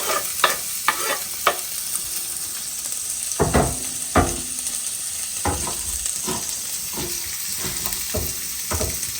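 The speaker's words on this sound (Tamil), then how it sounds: "இது லைட்டாக வதக்கவாப்பா." Onion sautéing in ghee with fennel seeds, cinnamon and cloves in a kadai, a soft continuous sizzle broken by repeated sharp scraping strokes of a stirring spoon, close and clear.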